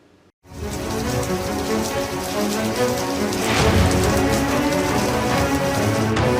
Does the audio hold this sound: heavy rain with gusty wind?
yes